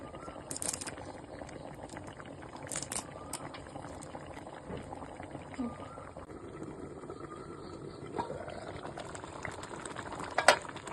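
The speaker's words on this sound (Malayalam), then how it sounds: "അപ്പോൾ നമ്മുടെ എരിശ്ശേരി നല്ല തിളച്ച് വന്നിട്ടുണ്ട്" Erissery curry with curry leaves simmering in a pan, a soft continuous bubbling with occasional louder pops and light clinks nearby.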